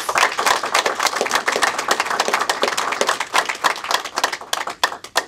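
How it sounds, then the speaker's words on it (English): A crowd at a political campaign speech breaks into sustained applause, dense clapping from many hands filling the room steadily and fading slightly toward the end, with no talk over it. "So I want you to give him a great big round of applause."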